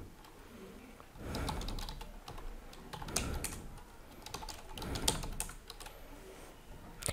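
Rapid typing on a computer keyboard, close and steady clicking keystrokes in irregular bursts, with no speech.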